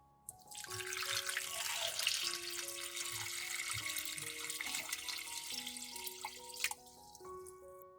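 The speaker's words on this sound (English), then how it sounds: "And then add water." Water runs from a tap into a large bowl holding kiwis. The stream sounds clear and splashy, with a rising tone as the bowl fills, and stops near the end.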